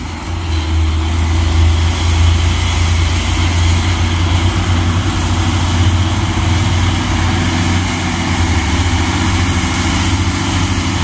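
A Hino truck engine idles steadily, a continuous low, heavy rumble holding at an even level throughout with no voices.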